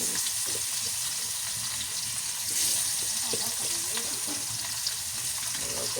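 Oil sizzles and crackles steadily in a wok close up, with occasional clinks of stirring underneath.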